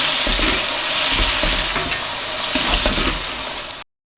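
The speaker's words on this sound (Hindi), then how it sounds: "आपने इनको अच्छी तरह से फ्राई कर लेना है।" Close, steady sizzling of onions and tomatoes frying in a hot pan, with occasional soft stirring knocks, ending in a brief silence.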